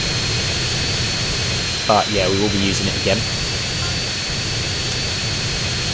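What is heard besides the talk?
airplane jet engine in flight, GTA San Andreas video game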